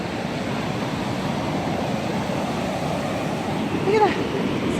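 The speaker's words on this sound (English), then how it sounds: "The waves just washed it away." Ocean waves wash onto a beach in a steady, broad hiss of surf with wind noise on the microphone, rising slightly near the end with a brief faint voice.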